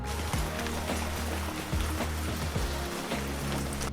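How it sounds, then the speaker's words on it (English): A rain sound effect from the Roblox Studio audio library plays as a steady dense hiss of falling rain with scattered drop patters, continuous and fairly even throughout. "So rain, let's see how it sounds."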